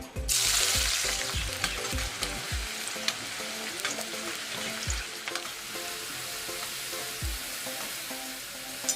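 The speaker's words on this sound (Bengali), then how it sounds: "তেলটা গরম হয়ে গেছে। আমি এবার পেঁয়াজগুলি ভেজে নেবো।" Sliced onions sizzle and crackle steadily in hot oil, close up, with occasional thumps of stirring.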